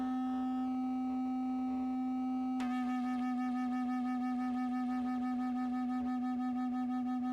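A single sustained tuning-fork tone is joined partway through by a second fork of slightly different frequency, after which the combined tone pulses up and down in steady beats, clear and alone.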